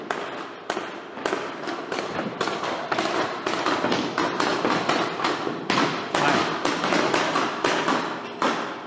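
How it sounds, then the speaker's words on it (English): Rapid, irregular thumps and knocks, like hammering on hardwood flooring, repeating steadily and fairly loud with no talking. "That is the sound of our new floor getting installed."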